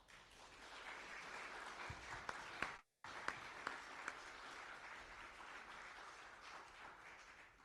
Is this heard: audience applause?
yes